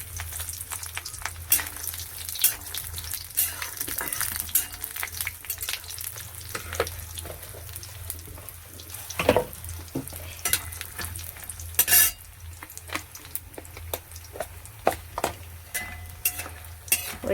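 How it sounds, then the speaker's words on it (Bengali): Small lentil dumplings (bori) fry in hot oil with a continuous crackling sizzle, broken by frequent sharp scrapes and clinks of a spatula against the pan. The sound is close and steady throughout, with no speech. "বড়িগুলো ভেজে নিচ্ছি।"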